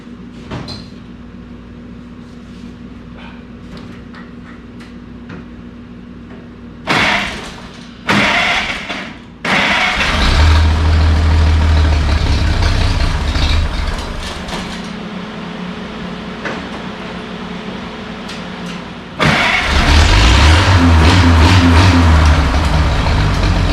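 A 1932 Chevy rat rod with a freshly rebuilt distributor cranks with a few loud bursts before the engine catches, then idles roughly and loudly, revving up again near the end.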